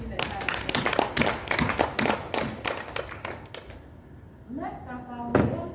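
A small meeting audience gives dense, close applause for Mr. Ebu at a preparatory meeting for a music festival. The clapping fades after about four seconds, and a voice then speaks over a quieter room.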